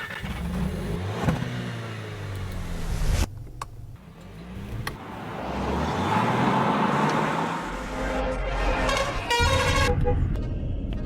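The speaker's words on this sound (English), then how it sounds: "Traffic is building up, matter of fact, bumper to bumper" Heavy road traffic with car horns honking repeatedly over revving engines and passing vehicles, loud and close, with short toots and a longer blast near the end.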